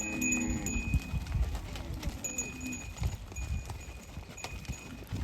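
A large herd of Kankrej cows runs, kicking up dust, with a dense patter of hoofbeats thudding on the ground, moderately close and continuous; a voice calls out early on.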